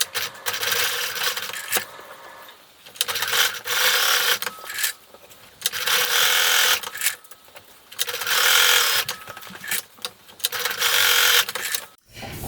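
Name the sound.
sewing machine sewing Velcro onto bow tie neckband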